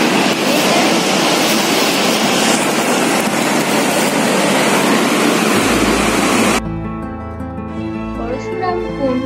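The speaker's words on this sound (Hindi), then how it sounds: "बहुत जोर यहाँ से जो आवाज मिल रहे हैं ये नेचुरल साउंड है नदी बहने" A river rushes down between mountains at Parshuram Kund in Arunachal Pradesh, a loud, steady roar of water that fills the first six and a half seconds before giving way to music.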